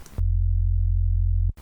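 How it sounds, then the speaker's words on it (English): A synthesizer sine wave oscillator tuned one octave down sounds a single steady, pure low tone for about a second and a half, loud and isolated, then cuts off abruptly. "let's add another oscillator, same sine wave"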